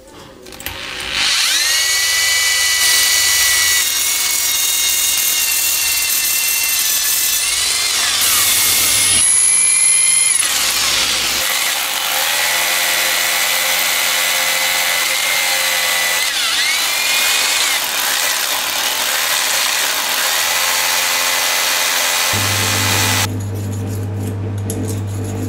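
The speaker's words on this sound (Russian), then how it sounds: "Теперь сверлим кафельную плиточку." A close, loud power drill grinds steadily into ceramic tile for a long stretch, its pitch wavering under load, with a brief lull partway through.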